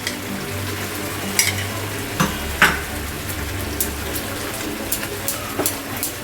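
Whisked sour yogurt stirred into gravy frying in a pan for egg lababdar, a bubbling sizzle broken by several sharp utensil scrapes and clicks, close and fairly loud, with no talking.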